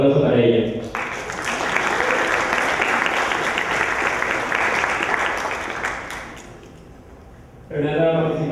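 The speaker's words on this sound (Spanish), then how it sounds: "Un fuerte aplauso para ella" An audience at a citizen debate contest final applauds sixteen-year-old Renata del Castillo, a broad burst of clapping lasting several seconds, with a voice speaking just before it begins and again as it fades.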